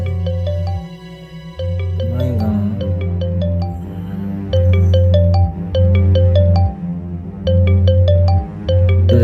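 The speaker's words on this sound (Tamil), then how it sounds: "ஃபோன் அடிக்குதுடா" A mobile phone rings with a repeating electronic melody, loud and close, sounding in bright note patterns over a steady low tone for several cycles with no talk over it.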